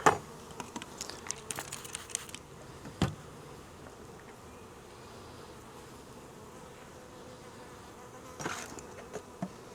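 Honeybees from a newly installed package buzz in a glass observation hive, a soft, steady hum close by, with handling clicks and rustles at the start and again near the end.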